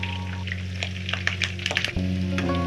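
Garlic kabab frying in hot oil with curry leaves tossed in, a continuous close sizzle under a steady hum, with crackling pops and spatters that flare up and then settle.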